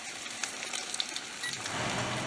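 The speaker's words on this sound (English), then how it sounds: "Carefully drop your nuggets into the oil and give them about 6 to 8 minutes to cook" Chicken of the woods mushroom nuggets fry in hot oil with a soft steady sizzle and scattered crackling pops that grow slightly fuller toward the end.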